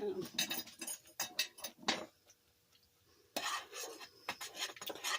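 Instant grits are stirred in a pot with a spoon in bursts of scraping and clinking metal, which pause briefly and then resume, with speech mixed in.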